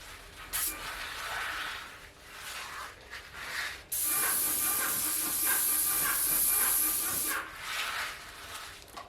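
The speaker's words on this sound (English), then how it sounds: "So we're going to spray the Anker Stuy primer" Spray gun applying Anker Stuy MDF primer over oak, a steady close hiss in bursts, with a long continuous pass in the middle and shorter sprays before and after.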